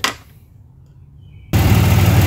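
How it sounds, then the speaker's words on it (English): A brief burst, a near-silent pause, then a car engine suddenly roars to life and keeps running loudly and steadily up close. "Sorry about the noise as we run the engine"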